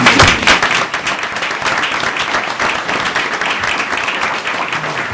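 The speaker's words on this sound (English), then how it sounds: "Let's give him a round of applause." A city council meeting room breaks into applause for the vice president's birthday, a burst of many hands that starts strongly and then settles into steady clapping with no speech over it.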